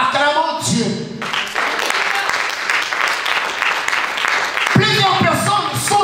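A church congregation breaks into loud, sustained applause and acclamation of God, a dense wash of clapping filling the space between stretches of a preacher's voice at the start and end.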